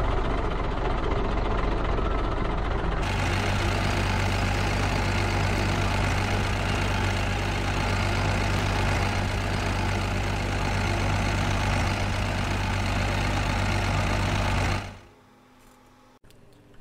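A steady vehicle engine drone while driving in a video game, loud and unbroken with a low hum, shifting slightly in tone after a few seconds, then dropping away abruptly near the end.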